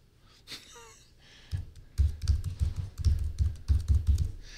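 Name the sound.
typing a password on a Chromebook Pixel keyboard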